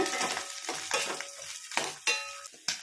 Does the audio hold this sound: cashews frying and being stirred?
yes